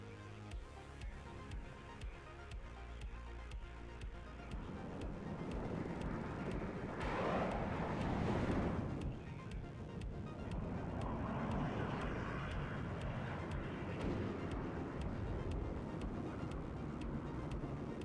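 Jets in the war game WARNO, F4F and Mirage aircraft, roar past as a rising and falling rush that swells to a peak, faint at first, over a quiet background with soft regular ticking.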